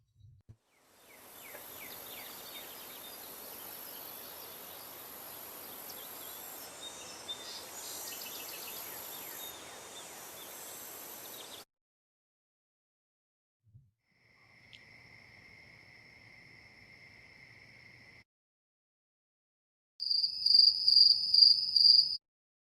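Outdoor insects and birds: a dense, steady field of cricket chirring and high trills, then separate thin, pure insect tones, and finally a loud, close, pulsing cricket chirp.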